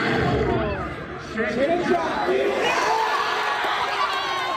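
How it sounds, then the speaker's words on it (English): Crowd of teenagers in a movie theater screaming and cheering at the chicken jockey scene, a loud dense roar of shouting voices sustained throughout, with a brief dip before surging again. "one of many social media posts of kids jumping, screaming, throwing popcorn, cheering at the chicken jockey scene"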